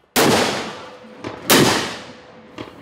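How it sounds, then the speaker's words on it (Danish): Ceremonial cannon salute shots fired by a Danish shooting society in Odense: two loud, booming blasts about 1.4 seconds apart, each with a long rolling decay, plus fainter echoing reports after each. "der bliver der afført salutskud"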